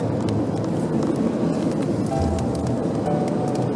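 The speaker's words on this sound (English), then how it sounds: "That is the sound of sandhoppers." A swarm of sandhoppers on a dark beach at night makes a dense, steady hiss and crackle, like rain falling on a tent. It is constant and fairly loud throughout, with no speech.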